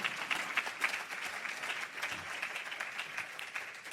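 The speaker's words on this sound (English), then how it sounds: "Let's get another round of applause for the great panel we had here today" An audience at a university business school HR advisory board conference applauds a panel, with sustained even clapping from a sizable crowd throughout.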